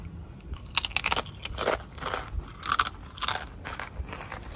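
Thin, crispy yellow cassava chips are crunched close up, with several sharp bites and irregular chewing crackles over a few seconds. There is no talk.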